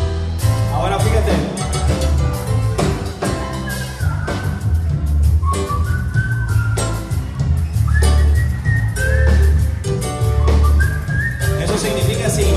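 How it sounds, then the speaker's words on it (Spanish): A church congregation whistles together during a lively worship song, the tune carried over loud music with drums and bass, steady and energetic throughout. "Eso significa silbando, todo el mundo. Silbando."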